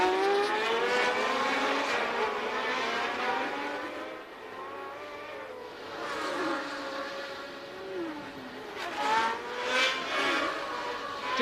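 Formula One race cars at the 1981 Belgian Grand Prix roar past in a continuous, loud engine whine, with pitch rising and falling as cars accelerate and pass one after another.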